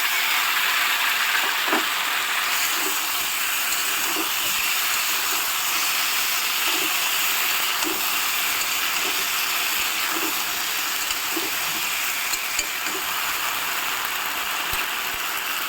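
Green chilli, ginger and tomato paste hitting hot oil in a pan, giving a steady broad sizzling hiss that runs without a break, with faint soft ticks scattered through it and no voices.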